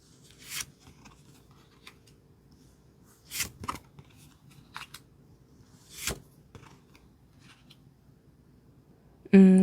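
Tarot cards shuffled and drawn from the deck, a few brief papery swishes and snaps spaced several seconds apart against near silence, ending in a sudden louder bump.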